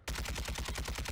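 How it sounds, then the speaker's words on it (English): Rapid automatic gunfire in Warzone 2, shooting enemies through the floor: a continuous burst of about a dozen evenly spaced loud shots, close and alone. "Mate, I'm actually shooting them through the floor"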